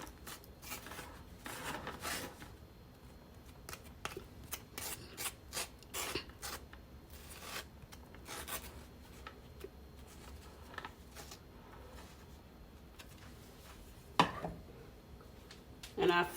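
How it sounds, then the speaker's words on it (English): A spatula spreads a banana buttercream crumb coat over a layered cake, giving soft scraping and rubbing strokes with intermittent sharper scrapes, close and fairly quiet, alone without talk. "This is all this is, crumb coating."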